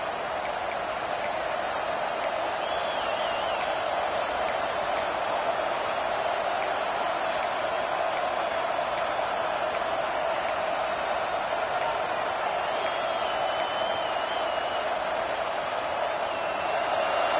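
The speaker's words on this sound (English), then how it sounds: "And this crowd coming to life here, trying to help the defense get a stop with the offense pinned back." A football stadium crowd at an Alabama game roars loudly after a false-start penalty as the defense tries to get a stop, a steady dense wash of cheering and noise that holds throughout.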